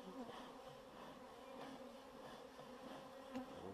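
Honeybees hum steadily around an open, queenless beehive, a dense close swarm buzz with small swells in pitch and loudness and no talking.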